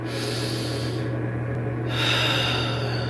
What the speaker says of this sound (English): Okay, breathing in.